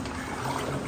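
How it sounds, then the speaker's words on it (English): Water flowing through Hezekiah's Tunnel in Jerusalem toward the Siloam end, a close, steady trickling gurgle that fills the short moment without pause. "Isaiah chapter 8 verse 6 tells us about the gently flowing waters of the Siloam."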